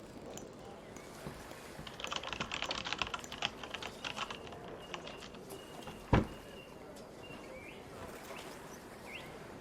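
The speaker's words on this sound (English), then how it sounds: "So I'm just typing the notes." Fingers tap out notes on a computer keyboard in a quick burst of clicking keys, then sparse taps and one sharp louder click, with faint birdsong in a quiet room.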